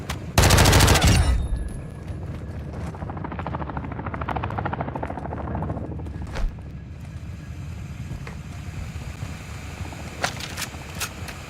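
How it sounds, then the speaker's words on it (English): An enemy attack helicopter approaching in the game DMZ opens with a loud burst of gunfire, then its rotor thump swells and fades over several seconds amid scattered distant shots. "the enemy attack helo is approaching your location"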